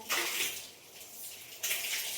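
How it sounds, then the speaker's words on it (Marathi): Water splashes and washes across a dusty gallery balcony floor, a steady rushing wash with a renewed surge near the end, no talk. "गॅलरी धुवायची झालंय सगळं ना, इतकी धुरळ्याने सगळं झालंय खराब"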